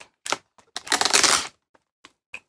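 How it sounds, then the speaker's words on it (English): Packing tape is ripped off a comic-book mailer box in a sharp, crackling tearing burst lasting about half a second, preceded and followed by a few short scuffs and taps, close up and loud. "Pull this tape off."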